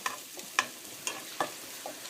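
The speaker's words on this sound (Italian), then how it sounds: "Continuate a soffriggere fino a quando praticamente non vedete che il prosciutto è diventato un po' duretto." Prosciutto with black pepper sautéing in a pan gives a soft, steady sizzle, broken by a few quiet clicks and scrapes of stirring. It is close but fairly faint, with no talking.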